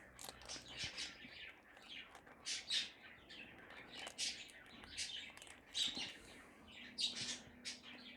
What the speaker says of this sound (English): Can you hear them birds in the background?